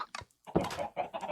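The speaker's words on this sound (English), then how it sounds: "I hear chickens inside" Chickens clucking inside a shack in Minecraft, several short close clucks in quick succession with brief pauses between them.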